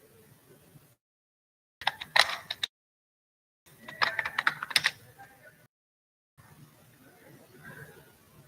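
Someone types on a computer keyboard in bursts of rapid clicking, close and moderately loud, separated by short silent gaps.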